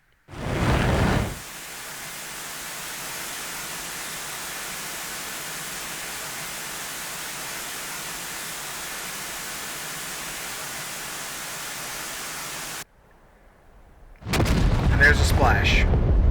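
An RB 75 missile fires from an AJS37 Viggen in the DCS flight simulator: a sharp launch burst gives way to a long, steady rushing roar that cuts off abruptly, followed by a louder burst of noise.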